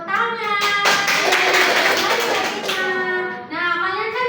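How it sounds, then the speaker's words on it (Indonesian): Clapping in a classroom teaching simulation, a short burst of hand claps sounding over prominent voices of children or adults talking and singing along, close and fairly loud. "Tepuk tangan"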